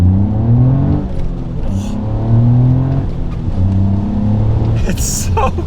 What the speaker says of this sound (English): See if I can show the intake sound quickly through the tunnel.